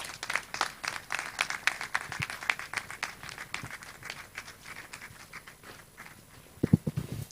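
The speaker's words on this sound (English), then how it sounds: "Please, a round of applause." An audience at an education ministry launch event gives a round of applause for the Minister for Education, scattered and fairly faint, with irregular claps thinning toward the end.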